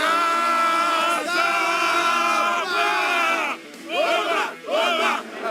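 Botafogo supporters chant a new song together, a loud massed crowd singing in rhythmic waves, with swells of cheering and yelling between phrases.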